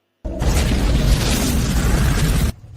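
A single loud, sustained explosion roars for about two seconds, a dense broadband blast that cuts off abruptly.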